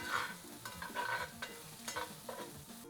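Garlic fried rice being stirred in hot oil in a pan, with a steady sizzle and repeated scraping strokes of a utensil, close and moderately loud.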